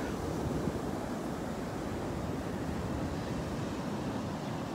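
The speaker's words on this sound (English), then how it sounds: "the waves are gorgeous this morning" Ocean waves break on Atlantic Beach on a morning walk, a steady close wash of surf noise mixed with wind rumble, with no distinct single crashes.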